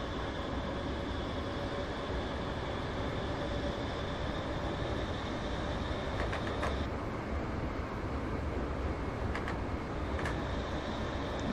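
A Class 321 electric train in a train simulator game on the Welwyn Garden City to London Kings Cross run gives a constant loud rumble of running noise, with a steady whine and a few faint clicks.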